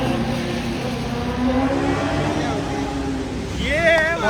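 A BMW S1000RR motorcycle engine runs steadily through a flooded Delhi street, then rises in pitch as it revs near the end, with water and traffic noise around it.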